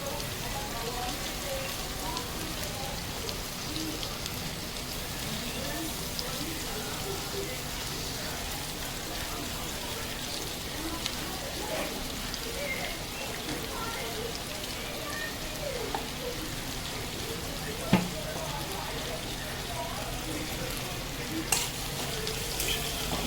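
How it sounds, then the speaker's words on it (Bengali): Fish coated in salt and turmeric fries in a pan with an onion and chilli curry base, giving a steady, soft, rain-like sizzle throughout. It is fairly faint and continuous, with a couple of small knocks, and no clear speech. "এইবার আমি এই যে মাছগুলো লবণ হলুদ দিয়ে মাখিয়ে রেখেছি এইগুলো সব দিয়ে দিলাম।"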